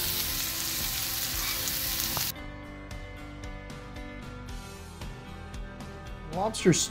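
Lobster and garlic frying in a pan on the stove, a bright sizzle that drops sharply as the heat is lowered, with a voice speaking over the quieter crackle.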